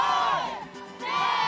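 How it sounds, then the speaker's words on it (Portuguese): A carnival crowd in the stands shouting together in a loud, sustained roar that dips briefly and then swells again, at Rio's 2009 Carnaval. "Eles gritam aqui."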